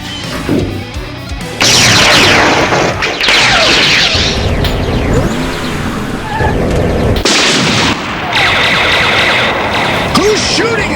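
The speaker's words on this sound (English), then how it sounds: "Who's shooting at us?" Gunfire and explosive blasts fill a stop-motion Transformers episode, loud bursts and booming shots overlapping in quick succession with a synthetic tone, with voices speaking between them.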